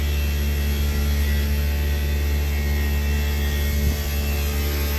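A Daikin VRV inverter compressor runs with its outdoor fan exhausting, making a loud, constant tonal hum and whoosh that holds steady throughout without voices.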